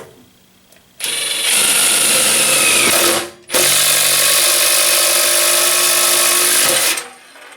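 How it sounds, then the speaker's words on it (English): A Milwaukee Shockwave thin wall hole saw cutting through a cabinet top, loud close whining drill in two sustained bursts with a short pause between, then winding down. "I'm going to drill through it now."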